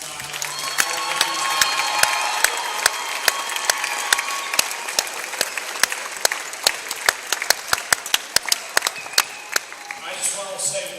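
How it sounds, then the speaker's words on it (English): A crowd claps steadily and warmly for several seconds, dense applause with a few sharper individual claps standing out near the end. "So please, a big round of applause for Dylan."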